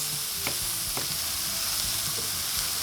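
Mushrooms fry in a hot pan, likely alongside shallots, with a steady close sizzle and a few soft stirring scrapes, no voices.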